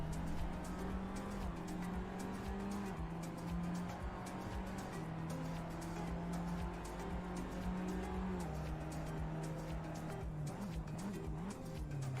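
Tatus Abarth F4 trainer racing car in a driving simulator, its engine droning steadily at a held pitch that dips and rises with gear changes, with a faint tyre scrub underneath throughout and no talk.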